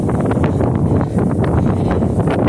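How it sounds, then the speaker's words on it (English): Strong wind buffets the microphone in gusty, continuous rushes, loud and close, with no voices. "I'm sure you guys can hear this wind."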